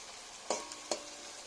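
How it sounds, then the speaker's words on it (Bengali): Onion frying in a pan gives a steady hiss, with two sharp stirring scrapes standing out; close and fairly quiet, with no talking. "পেঁয়াজটা একটু ভাজা ভাজা করে নিই"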